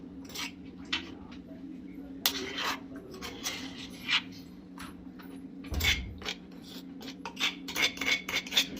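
Ingredients being chopped finely with a knife in a home kitchen, heard as scattered light tapping and scraping of metal against a board and utensils, with irregular close clicks and clatters.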